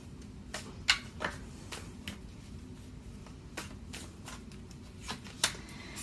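Tarot cards being shuffled and drawn, heard as soft rustling with a few sharp card snaps and slaps, close and fairly quiet over a faint steady background.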